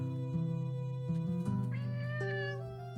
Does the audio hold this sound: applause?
no